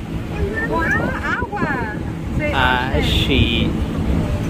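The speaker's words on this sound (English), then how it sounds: "Too windy out here." Strong wind buffets the microphone with a constant roar outdoors on the Fourth of July, while people talk and exclaim close by.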